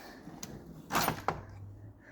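A toolbox drawer in a mobile technician's hand-tool chest slides open with a soft rolling rush and a sharp click, preceded by a faint tick and followed by a low steady hum.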